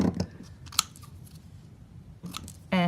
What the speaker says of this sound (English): I'm going to finish trimming this sentiment so it's ready to go